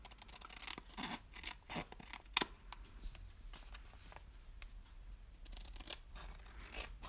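Scissors trim excess paper from a decorated penpal envelope, giving quiet, uneven snips and rustling paper close by, with soft scrapes between the cuts.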